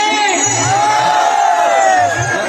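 A large crowd raises a loud, sustained collective cheer, voices swelling together in a drawn-out shout.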